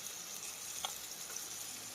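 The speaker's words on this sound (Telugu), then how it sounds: "ఇవన్నీ బాగా ఫ్రై చేసుకున్నాను." Carrot, curry leaves, ginger pieces and green chillies fry in oil with a steady, soft hiss of sizzling and a couple of faint stirring ticks, heard alone.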